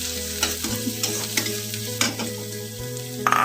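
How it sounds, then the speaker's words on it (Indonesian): Garlic, onion and shallots sauté in a hot pan, with a steady close sizzle and a few scraping strokes from stirring. No one speaks. "kita masukin bawang putih, bawang bombay, dan bawang merah. Tumis sampai harum."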